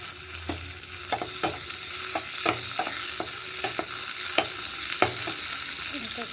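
Green chillies fry in a pan with a constant close sizzle, broken by repeated sharp scrapes and taps of a spoon stirring against the metal, with no talking.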